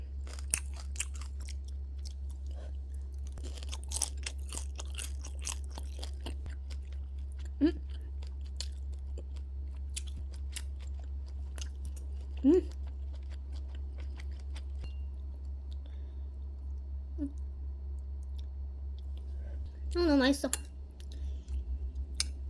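Intermittent crunchy chewing of crispy fried guobaorou, a few distinct crunches spread out over a steady low hum, close to the microphone.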